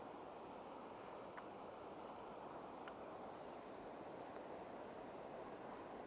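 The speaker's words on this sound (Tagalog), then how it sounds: "Lakas ng agos ng tubig, oh." Strong river current rushing beneath a bridge near falls and rice terraces in Benguet, a steady broadband wash of flowing water, fairly faint and continuous with a few small clicks, no talk.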